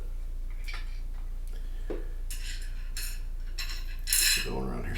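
Metal pot washers and nuts are handled for a JHS Notaklon pedal build, producing a few small, sharp clinks and taps spaced irregularly, close and quiet against a low hum.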